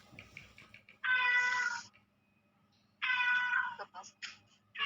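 A cat meows twice, two drawn-out, fairly loud calls separated by a pause, with faint murmuring voices and small noises around them indoors during a lecture.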